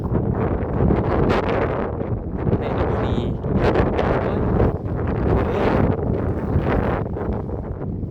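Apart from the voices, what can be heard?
strong wind blowing on a mountain with fog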